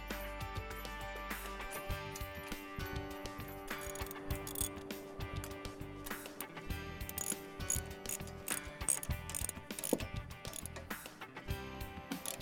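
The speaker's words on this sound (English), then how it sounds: "Got the bolt tightened all the way in" A bolt being tightened on a vehicle hitch receiver, a ratchet clicking in quick, uneven bursts with faint metallic knocks, close by and fairly quiet, no talking.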